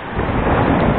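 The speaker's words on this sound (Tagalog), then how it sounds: "Medyo may kalakihan yung alon mga kabady" Loud, rushing sea waves and wind roar continuously, close and muffled, with no voices, on a fairly rough sea during a fishing trip.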